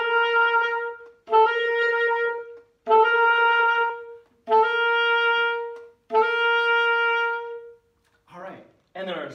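A short melodic phrase on a sustained, harmonically rich instrument, played as five separate held notes, each opening with an acciaccatura, a quick crushed grace note squeezed just before the beat, followed by a short burst of a different sound at the end.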